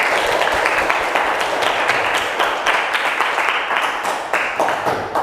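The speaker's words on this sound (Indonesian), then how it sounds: "Oke, tepuk tangannya mana?" Classroom audience applauding during an Indonesian school teaching-practice session, steady dense clapping from many hands that holds loud and even for about five seconds with no talk over it.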